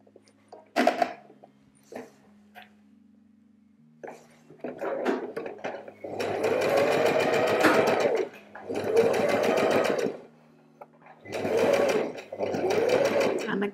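Sewing machine stitching a dress seam, running in steady bursts of fast, even needle chatter with short pauses and faint handling noises between them, close and alone.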